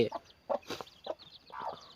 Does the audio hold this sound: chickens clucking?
yes